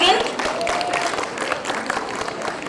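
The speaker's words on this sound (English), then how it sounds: "May we have a huge round of applause for each and every student." Applause from an audience at a college annual day, a dense steady patter of many hands clapping throughout, with cheering and voices mixed in.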